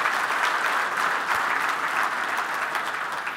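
Audience applause at a technology conference keynote, a sustained wash of clapping from a large crowd, fairly distant and even, holding steady throughout.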